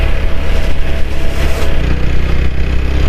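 A TVS Apache 160 4V motorcycle hums steadily while riding through the city, a loud close engine drone mixed with rushing wind noise and no talk.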